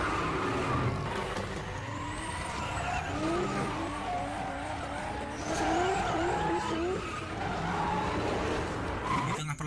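A reckless car skids and races in a film chase scene, continuous engine roar with tire squeals and skidding throughout, loud and busy with other traffic noise mixed in.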